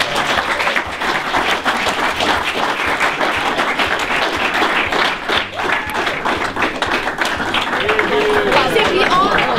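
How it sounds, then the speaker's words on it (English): An audience at a college signing night breaks into sustained, dense clapping that runs steadily throughout, with some chatter and voices mixed into the crowd. "And there we go, and a big clap for everybody."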